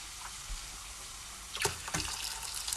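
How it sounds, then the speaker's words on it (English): Hot water poured over egg noodles in a kitchen, a soft running splash that swells midway and continues for about a second, fairly close, with no talk. "I'm going to add a bit more hot water to it actually."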